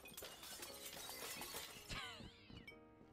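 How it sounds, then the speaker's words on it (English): Broken glass is thrown and smashes with a sharp shattering crash, followed by scattered tinkling shards, over busy background noise. "you can literally just throw the broken glass"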